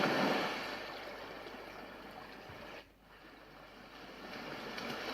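A steady wash of broadband noise from an Avantek rechargeable white noise machine imitates ocean waves, swelling and fading with a brief dip midway, played alone without any talking.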